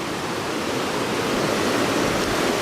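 A jungle river in Colombia's Cocora Valley rushes past in a dense, steady roar that stays loud and unbroken the whole time, with no voices.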